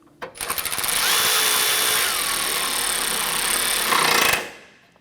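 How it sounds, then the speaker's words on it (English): A power tool, likely an impact wrench, runs in a steady close buzzing burst for about four seconds, tightening bolts on a 2009-2015 Honda Pilot A/C condenser bracket, then cuts off abruptly. "Go ahead and tighten down these bolts."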